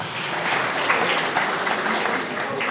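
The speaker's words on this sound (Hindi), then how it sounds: "कृपया जोरदार तालियों से माननीय विधायक जी का स्वागत करें" Brief burst of steady applause from a crowd at a ceremony honoring an MLA, even dense clapping with no voices over it.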